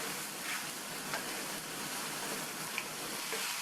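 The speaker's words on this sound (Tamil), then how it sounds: "இப்போ எண்ணெயிலேயே இந்த பீர்க்கங்காயை வதக்கி விட்டுக்கணும்." Chunks of ridge gourd sautéing in hot oil in a pan, a soft, continuous crackling sizzle with faint scattered pops and no voices.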